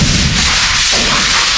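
Sandpaper rubbing hard against a surface inside a house still under construction, a loud, close, continuous scratchy rasp with no pause and no voices.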